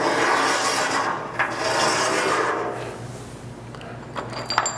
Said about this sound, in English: We're just going to slide them in to the end here.